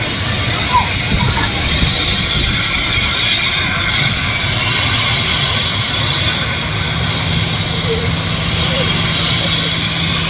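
A business jet's engine roars steadily at a makeshift airport in light drizzle, a loud continuous whine and rumble with crowd noise and voices mixed in throughout.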